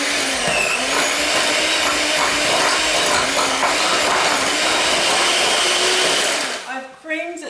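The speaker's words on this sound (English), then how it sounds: "I'm going to whisk these ingredients together now." Sugar and other cookie ingredients for mint chocolate chip cookies are whisked in a bowl, giving a steady, loud scraping whir that runs for about six seconds before tapering off into a few light knocks.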